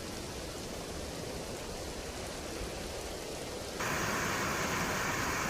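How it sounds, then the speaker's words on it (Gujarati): Torrential rain pours down on village streets in the Sardoi area of Modasa, a dense, even hiss with no voices that grows suddenly louder and brighter partway through. "મોડાસાના સરડોઈ પંથકમાં ધોધમાર વરસાદની શરૂઆત થઈ"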